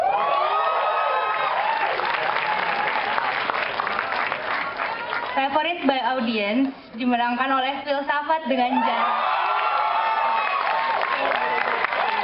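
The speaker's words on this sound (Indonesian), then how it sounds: "Tepuk tangan yang meriah, teman-teman." Audience applause and cheering at the Parahyangan Film Festival awards, a loud crowd roar under an announcer's amplified voice that keeps talking through much of it.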